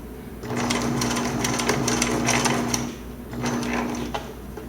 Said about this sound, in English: go ahead and sew on it, just a straight stitch